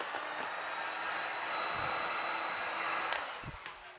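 A heat gun blows a steady, close airy whoosh while warming 3M black carbon fiber vinyl wrap on a Cybertruck mirror, ending with a couple of soft knocks and no talking.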